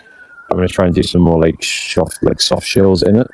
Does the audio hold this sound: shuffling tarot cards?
no